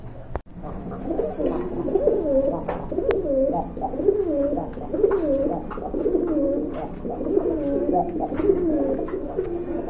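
Pigeons coo close by in a steady run of soft, rolling calls, one after another over faint background noise.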